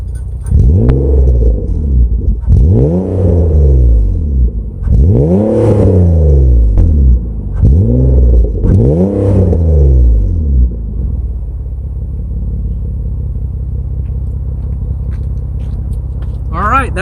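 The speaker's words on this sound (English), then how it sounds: "I'm gonna rev it up again." A Nissan Maxima with a Megan Racing OE RS cat-back exhaust revs four or five times, each loud rise and fall rumbling close, before settling into a steady low idle.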